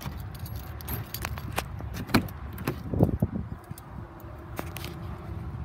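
Keys jangle and clink as the driver door of an old truck is unlocked, with a few sharper metallic clicks and knocks over a low background hum.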